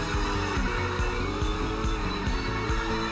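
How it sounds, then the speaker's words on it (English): Car drifting in the video game Drift Stage, engine revving in repeated rising and falling surges with tire squeal, loud and continuous with a rhythmic pulse of throttle blips. "Big drift's coming up pretty soon"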